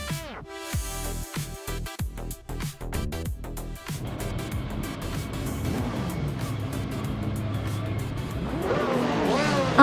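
A 2016 Ligier JS P217 LMP2 race car in a racing video game, its engine buzzing through sharp revs and gear changes, then settling into a sustained roar with tire noise that rises toward the end.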